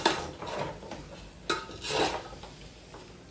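A spoon scrapes and stirs chicken in a dry pan with no water added, giving a few irregular metallic scraping strokes, close and moderately quiet.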